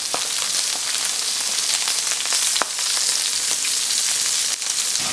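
Salmon and scallops searing in a crowded pan give a loud, continuous hissing sizzle with small crackles and pops throughout.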